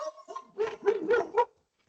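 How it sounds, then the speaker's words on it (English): Dogs bark in a short burst of four or five yaps, close and fairly loud, heard alone and then falling silent, while someone plows snow outdoors nearby. "someone's plowing and dogs are freaking out"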